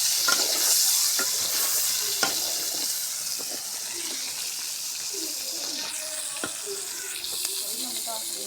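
Pointed gourd (potol) frying in a pan gives a steady close sizzle and hiss throughout, with occasional stirring scrapes and faint voices underneath.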